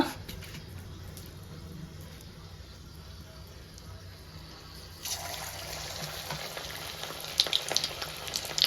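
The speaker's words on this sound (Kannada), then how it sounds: "ಇವಾಗ ಒಂದೊಂದೇ ಪ್ರಾನ್ಸ್ ಹಾಕ್ಕೊಂಡು ಚೆನ್ನಾಗಿ ಫ್ರೈ ಮಾಡ್ಕೊಳ್ಳೋಣ" Prawns drop one by one into a hot pan and begin to sizzle, a faint hiss that turns into a brighter, steady crackle of frying partway through.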